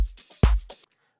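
Deep house drum loop programmed in FL Studio with no rim shot, just a kick, clap and hi-hats playing one short bar that stops abruptly, loud and dry with no voices.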